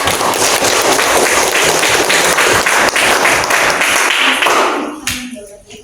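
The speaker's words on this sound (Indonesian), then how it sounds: "Tepuk tangan buat Rifat." A classroom audience at a university teaching exam applauds loudly and steadily, a dense wash of many hands clapping close by, with voices mixed in before the applause fades out near the end.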